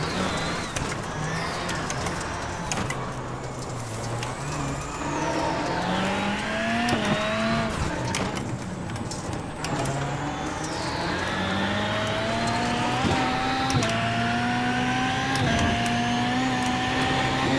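Simulated race car in iRacing rallycross at the Daytona short course, its engine revving up and down through the gears with brief lifts for braking, loud and continuous with no talk.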